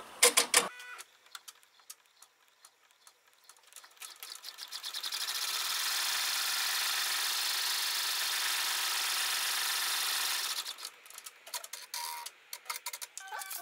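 An embroidery machine stitches out an in-the-hoop envelope card holder, starting with brief clicks and taps, then settling into a steady, loud, high-pitched whirring run for several seconds before slowing back to intermittent mechanical ticking.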